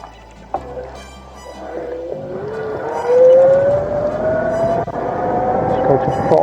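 A 350 W 48 V geared brushless front hub motor on an e-bike spins up under throttle, its whine rising steadily in pitch over a rumble of wind and road noise, close and fairly loud, with no talk.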